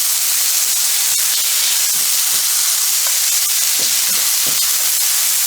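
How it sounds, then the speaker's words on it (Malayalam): Onions sautéing in coconut oil for a Kerala chicken stew sizzle and hiss continuously and loudly up close, with faint scrapes and taps of stirring scattered through. "എന്നിട്ട് സവാള നന്നായി ഒന്ന് വഴറ്റി കൊടുക്കാം"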